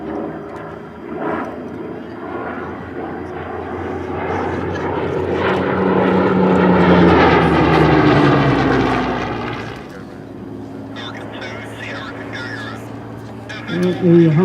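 A Hawker Sea Hurricane's piston engine drones through a go-round at an air display, swelling as the fighter passes close and then fading into the distance, with a commentator talking over it.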